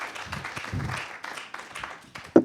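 A small crowd claps in scattered, uneven bursts, moderately near, with one sharp loud clap toward the end.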